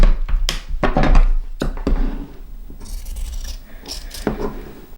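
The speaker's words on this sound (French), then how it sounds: "je trace et je découpe le surplus ici" Scissors cut away excess fabric while sewing a vanity bag, giving a series of close, crisp snips and scraping rustles that start dense and loud, then thin into softer rubbing, with no talking.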